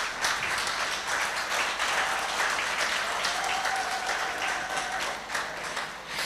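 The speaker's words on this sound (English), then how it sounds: "Let's have a big round of applause for" Sustained, dense applause from a large audience at the Northern Uganda Film Awards Gala 2025, holding steady and loud throughout without a break.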